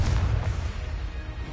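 A Confringo blasting spell erupts in the Hogwarts Legacy video game as a dense, low rumbling boom that fills the short moment and fades only slightly.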